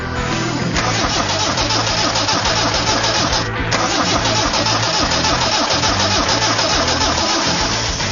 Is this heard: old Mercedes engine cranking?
yes